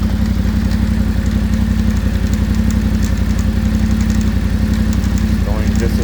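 A Yamaha Tenere 700 fitted with a Barnett clutch runs in gear with the clutch held, its engine a loud, close, steady low thrum with an even, rapid pulse throughout.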